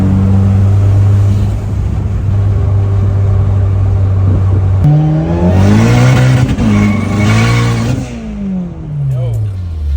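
A 500-horsepower Honda Civic idles with a deep, loud drone, then launches hard in first gear. Its engine note climbs sharply and rises again through a revving surge, and excited voices are heard inside the car.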